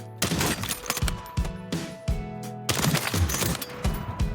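Rapid automatic gunfire from a scoped gun in the shooter game Warzone, loud and close, firing in repeated bursts with brief pauses between them, no talking over it.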